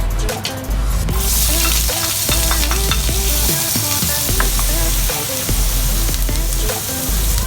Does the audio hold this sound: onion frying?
yes